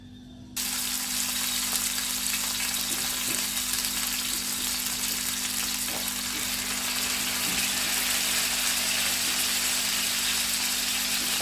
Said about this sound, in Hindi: ये देखिए मैं इसको फ्राई पैन में ना फ्राई कर रही हूँ